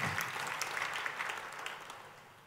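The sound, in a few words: congregation applauding at a church service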